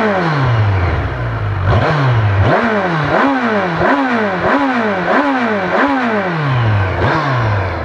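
A Kawasaki Versys 1000 SE motorcycle engine is blipped repeatedly, about nine sharp revs rising and falling in a steady rhythm, loud and close with no talk.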